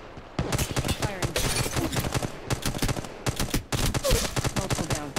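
Rapid bursts of gunfire from the mobile battle royale game Apex Legends Mobile, dense loud volleys crackling almost without pause, with a brief gap before another run of automatic fire.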